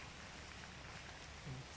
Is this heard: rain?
yes